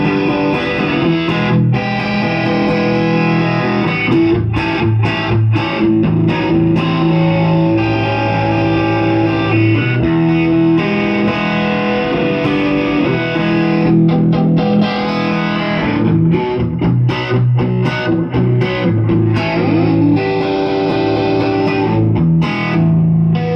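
Overdriven electric guitar from the bridge pickup of a 2015 Epiphone Limited Edition Joe Bonamassa Les Paul Standard, driven through a boosted amp into distortion, plays sustained chords and riffs loudly and steadily, with no talking.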